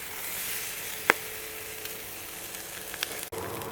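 A ribeye steak sizzles on a grill with a steady, close hiss of searing fat, one sharp pop standing out partway through and a brief scrape near the end.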